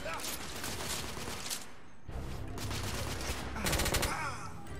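Bursts of rapid gunfire from a gun in a video game, loud rattling volleys broken by a brief lull in the middle, with some voice mixed in underneath.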